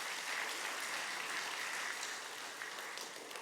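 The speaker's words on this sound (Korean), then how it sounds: "우리 하나님께 영광의 박수를 올려드립니다." Congregation applause during a Sunday evening worship service at a church in Mokpo, a steady, fairly faint wash of many hands clapping without pause and with no voices over it.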